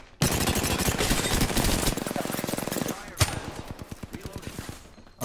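Rapid automatic gunfire from an Apex Legends match, loud bursts of rattling shots followed by sparser single shots and a sharp crack near the end, with no speech over it.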